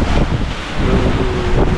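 Strong wind at sea aboard a sailboat leaving Gibraltar in rough water, buffeting the microphone as a loud, steady roar with a faint whistling tone partway through.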